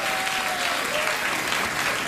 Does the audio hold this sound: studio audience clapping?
yes